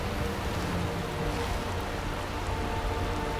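Steady rainfall patters continuously in Skyrim VR, a dense even hiss of drops on surfaces with no talk over it.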